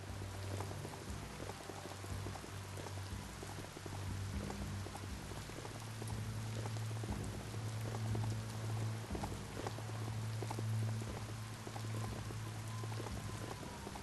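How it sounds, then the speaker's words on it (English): Steady rainfall in the video game Biomutant, a dense continuous patter of drops on surfaces with a low droning ambience underneath, even and moderately loud throughout with no talking. "Oh no! Rain!"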